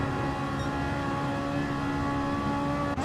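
Ferrari racing car in an online racing game at the Nurburgring Nordschleife holds a steady, high-pitched exhaust drone with strong tonal harmonics, loud and continuous for a few seconds without talk.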